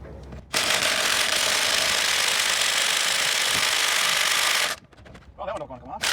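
An impact wrench hammers on a 19 mm lug nut of a 2006 Chrysler Pacifica wheel, a loud, continuous rattling burst lasting about four seconds, followed by clinks and someone talking.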